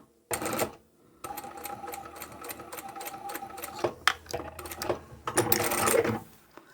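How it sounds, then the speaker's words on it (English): A sewing machine stitches fabric for a zippered phone pouch in rapid bursts of needle clatter, starting and stopping several times, close and fairly loud with no talk over it. "If it's a struggle to get this under the machine, you can pull the fabric away from that stabiliser just to give you enough area to sew"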